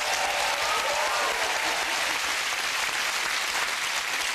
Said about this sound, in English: Give them a big round of applause, the Woolpackers!